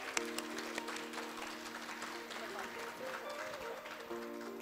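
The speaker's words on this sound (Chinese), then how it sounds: "我们再一次热烈掌声欢迎我们的前副总统吴敦义先生" An audience applauds to welcome former Vice President Wu Den-yih at the 21st National Architecture Gold Award ceremony, a steady, dense clapping that holds for several seconds over a low sustained tone.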